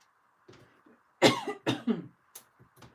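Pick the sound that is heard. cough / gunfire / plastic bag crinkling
cough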